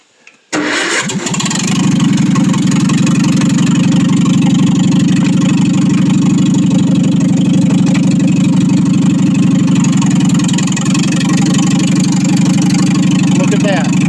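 A Farmall M tractor engine cranks briefly and catches, then settles into a loud, steady, low rumbling idle that continues close by for the rest of the clip.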